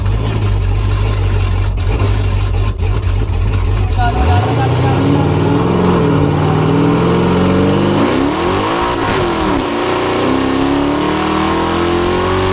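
A Chevrolet Camaro ZL1 running on 93-octane fuel accelerates hard, its engine roaring loud and close, then revving up through the gears with rising pitch as voices talk over it.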